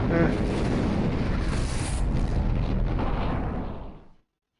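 A space explosion in the StarLancer space combat game. It is a loud, booming burst with a rumbling tail that holds for several seconds, then fades away to silence.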